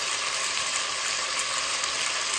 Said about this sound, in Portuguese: Tá vendo pra escutar o chiado aí